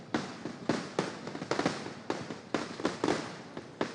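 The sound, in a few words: fireworks bursting at Puttingal temple festival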